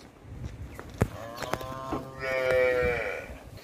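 A cow mooing on a farm where cows and a Murrah buffalo stand for sale, one long, loud, close moo that rises and then fades.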